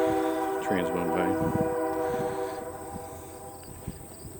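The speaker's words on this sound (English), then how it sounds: "Trains went by." A passing train sounds outdoors near a homemade log sawmill, a steady horn-like tone with a rising, rumbling swell before fading, while someone talks nearby.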